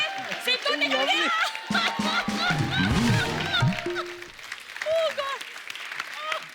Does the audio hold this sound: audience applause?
yes